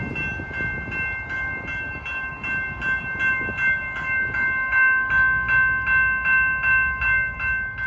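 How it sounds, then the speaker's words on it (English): A train approaches a railroad crossing in Colorado Springs while the crossing bells ring in a fast, even pulse, with the rumble of the train building underneath, loud and close, with no talk. "As the train gets closer,"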